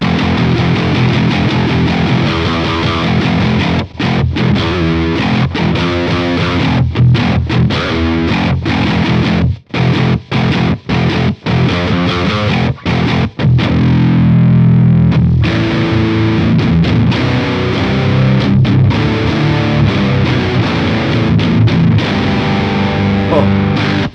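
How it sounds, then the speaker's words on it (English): Heavy distorted eight-string guitar through the Neural DSP Archetype: Rabea plugin, chugging on very low notes in tight rhythmic bursts, loud and dense, with brief palm-muted stops between phrases. "If you just want the 8 string low chugging sound"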